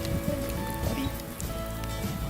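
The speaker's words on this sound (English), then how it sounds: "we're just sitting here and just enjoying this rain" Rain falling in Central Australia makes a steady, close patter and rustle on surfaces, continuous through the short moment with no voices.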